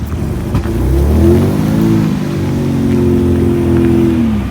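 A Jeep FC 150 engine on a test drive, a loud close rumble with rising and falling pitch as it revs and pulls away, heard alone without talk.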